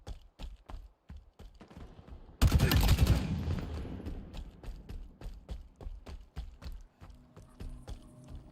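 Bursts of automatic gunfire in Halo Infinite online multiplayer, a loud sustained volley partway through amid lighter rhythmic shots and footsteps.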